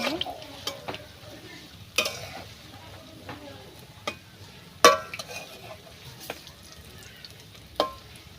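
Palm fruit fritters (taler bora) frying in a pan of oil, a soft steady bubbling sizzle punctuated by sharp utensil clicks and scrapes against the pan at irregular intervals.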